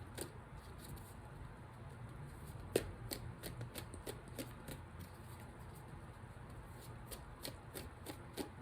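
A deck of cards is shuffled for a reading, with soft, close riffling and rapid flicking patter in repeated bursts, quiet throughout with no voice over it.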